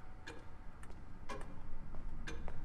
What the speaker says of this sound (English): You're a loud ass clock. Tick tock.